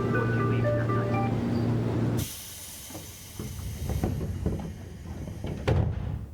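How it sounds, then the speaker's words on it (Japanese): Train doors closing at platform 4 in the Railfan Japan game on PS3: a steady tonal chime or announcement-like tone, then a sharp hiss and rumbling clatter of the train as the doors shut, moderately loud throughout. "4番線ドアが閉まります。"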